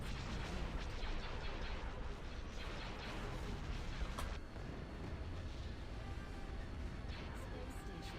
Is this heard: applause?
no